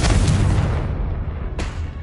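A Confringo fire spell in Hogwarts Legacy goes off as a loud, booming blast, with a second, sharper burst about a second and a half later and a rumbling tail between them.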